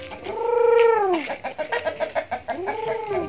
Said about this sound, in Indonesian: Oh, ini ayam.